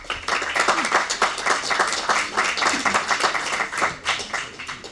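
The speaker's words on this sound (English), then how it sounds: "I hope you just heard the applause. There was a lot of applause for you." Applause for a workshop speaker, a steady close patter of many hands clapping with a loose rhythm, continuing throughout without talk over it.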